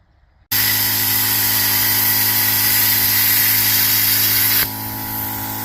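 Plasma cutter slices through van body metal during a teardown to the frame, starting suddenly with a loud steady hiss and hum that drops slightly in level near the end, with no speech.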